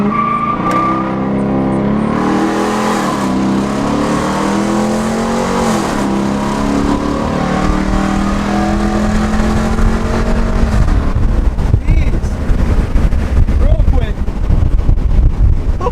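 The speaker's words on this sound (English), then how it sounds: "Sounds so much better. It does. It gets rid of that raspiness, a little bit of it." A Hemi V8 fitted with an Airaid cold air intake revs loudly and steadily up and down, with a deep rumble and wind buffeting on the microphone, while people talk over it.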